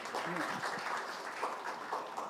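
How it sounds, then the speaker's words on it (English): An audience at a technology conference talk in Bangalore applauds with steady, dense clapping from a crowd, somewhat distant and soft. "Let's welcome with a round of applause, please."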